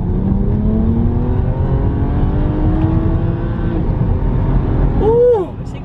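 A BMW 335is on coilovers accelerates hard, its engine droning steadily with a rising pitch over several seconds before easing off, while a voice chimes in near the end.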